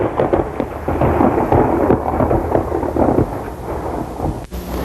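Severe thunderstorm rolling thunder, a loud continuous low rumble with crackling bursts and a brief dip near the end, no voices.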